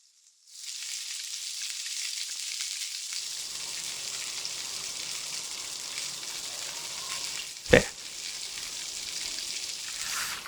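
Marinated chicken lollipops deep fry in hot oil with a loud, steady hiss and crackle that holds for about ten seconds, with one sharp knock partway through and no talking.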